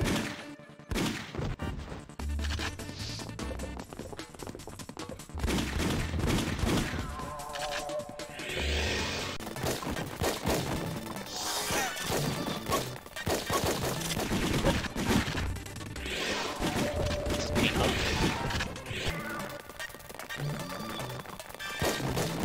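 Gunshots and crashes fill the VIP Starring Pamela Anderson video game, coming as dense, continuous volleys of loud bangs and impacts that barely pause from start to finish.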